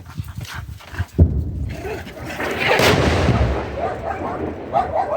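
A sharp boom of nearby gunfire cracks out among scattered thumps, followed by a long rumbling roll, with a dog's whimpers and faint voices in the background.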